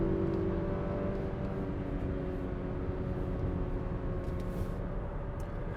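A 2021 Mazda CX-30 Turbo in sport mode accelerating hard through a 0 to 60 run, a steady droning engine and road roar heard from inside the cabin, no talking.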